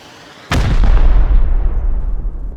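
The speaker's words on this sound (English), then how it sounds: "you want to fire HV rockets at me" HV rockets fired in a video game: one sharp, loud blast followed by a heavy rumbling roar that slowly fades over a couple of seconds.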